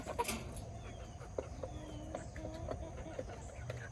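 Chickens cluck faintly at a farm during a morning feed, scattered short calls over a low, steady outdoor background.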